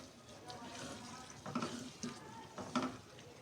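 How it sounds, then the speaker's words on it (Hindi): Water is poured into a pan of simmering Bengali fish curry with garam masala, a soft splashing and bubbling sizzle with a few brief louder spurts. "और अब हम इसमें शामिल करेंगे पानी"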